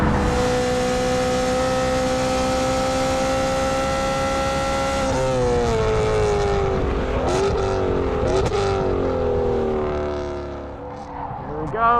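A BMW M car is driven hard on a wet race track, its engine howling loudly at high revs, then pitch dropping and rising through shifts as it brakes and accelerates toward a corner, close and continuous.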